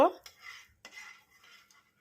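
A metal spatula scrapes butter around a wok set on a gas stove, giving a sharp clink followed by several soft, quiet scraping strokes, with no voices.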